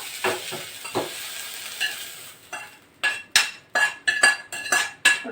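Ingredients for chutney being stirred and tossed in a pan, with soft sizzling and a string of sharp scraping, clinking utensil strokes that grow louder and more rhythmic.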